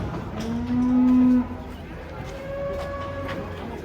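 A large cow lets out one loud, close moo while being unloaded from a truck, followed by a fainter, shorter low call over quiet background noise.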